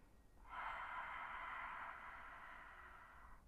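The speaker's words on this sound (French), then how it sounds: "inspirer par le nez et de souffler par la bouche avec la bouche entrouverte, la langue contre le palais" A single slow exhale through a half-open mouth with the tongue against the palate, a soft breathy hiss lasting nearly three seconds, close and quiet, alone without speech.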